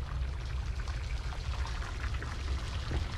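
Water pours steadily in the horror game Fobia St. Dinfna Hotel, a continuous close splashing stream with a hissy trickle and no pauses.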